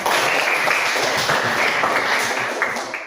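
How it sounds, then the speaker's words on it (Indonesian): Scattered clapping from a classroom of students, a steady patter of many hands at close range lasting the whole stretch with no talking over it. "Oh ya tepuk tangan."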